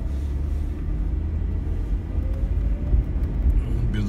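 A car pulling away from a green light in Toronto, a steady low engine and road rumble from inside the cabin, continuous and moderately loud with faint traffic.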